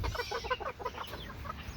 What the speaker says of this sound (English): Probably definitely a rooster though.